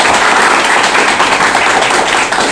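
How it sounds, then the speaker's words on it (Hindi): Students in a software training class give a dense, loud burst of applause, close and continuous for a couple of seconds, with no talking over it. "तो जोरदार ताली हो जाए सुनील के लिए"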